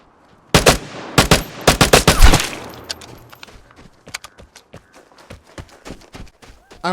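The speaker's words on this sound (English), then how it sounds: "shooting him when he was in the open, I could not ask for a better opportunity to shoot somebody" Gunfire in the survival shooter Vigor, starting with loud, sharp rapid bursts from an assault rifle, then thinning into scattered quieter shots and echoing reports at varying distances.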